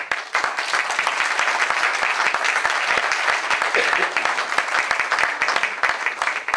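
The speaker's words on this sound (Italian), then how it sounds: "Ancora un applauso per Vincenzo Adamo." An audience at a Sicilian dialect award ceremony breaks into dense, sustained applause. Many hands clap loudly and evenly throughout, with no speech over it.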